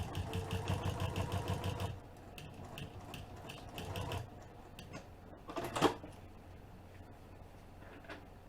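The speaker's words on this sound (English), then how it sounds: "I'm going to open up this little seam and just top stitch it" An industrial sewing machine runs in a fast, even burst for about two seconds while top stitching a seam on a business bag with Tech 70 thread. Quieter mechanical clicks and handling noises follow.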